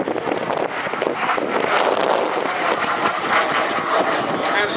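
A Soviet MiG-15 jet fighter flies at the Duxford Air Festival in 2017, its loud, sustained jet roar steady and broad throughout with a windy rush.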